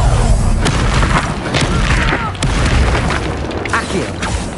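Incendio fire spell cast in the Hogwarts Legacy video game, a loud, dense booming burst of magical combat effects with several sharp pops and thuds over a continuous rumbling roar.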